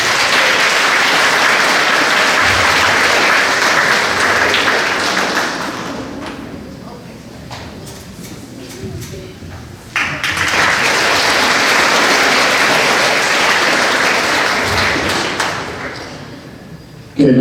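Applause from the crowd at a 7th grade school awards ceremony, arriving as two long bursts of loud, dense clapping separated by a quieter pause with faint thumps.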